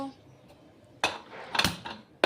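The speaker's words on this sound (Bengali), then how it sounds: "এদিকে আলু কাটছি আলু ভাজি করবো" A kitchen knife slices through potatoes being cut for frying into a potato bhaji, giving three sharp, close chopping strikes against a quiet background, with no talking.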